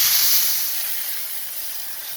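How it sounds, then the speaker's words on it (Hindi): Milk poured into a pan while making a mango dessert gives a close, steady hissing rush that fades slightly over two seconds, with no voices. "यहाँ मैं मिल्क डाल रही हूँ"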